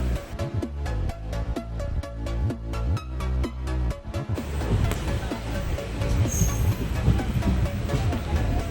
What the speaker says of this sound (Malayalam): ആവണേശ്വരം റെയിൽവേ സ്റ്റേഷൻ എത്തിയിട്ടുണ്ട് ആവണേശ്വരം കൊട്ടാരക്കര നിന്നെടുത്ത് രണ്ടാമത്തെ സ്റ്റേഷനാണ്